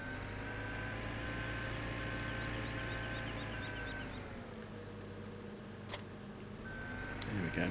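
A stump grinder vehicle rumbles with a steady engine drone as it is driven out of the way in a farming video game, with repeated reversing beeps over it and a brief click near the end.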